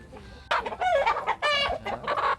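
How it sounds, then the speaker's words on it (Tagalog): Chickens on a small provincial mini farm cluck and squawk in several close, loud bursts over a couple of seconds, with no voices. "Let me show you. My chickens."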